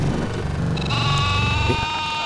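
A goat bleats repeatedly in a hide-and-seek video game, wavering nasal cries stacked over game sounds, loud and close with no talk.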